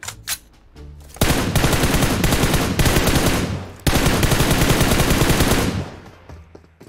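Rapid automatic gunfire in PUBG Mobile, a couple of short early shots followed by two long sustained loud bursts with a brief gap between them, then tapering off.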